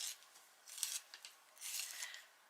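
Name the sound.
sharpening a coloured pencil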